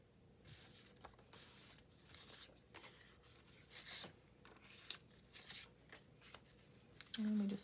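Printed papers for a craft travel folio are handled and shuffled, giving soft rustles, slides and flicks in quick irregular bursts, close and quiet, with a brief louder rub near the end.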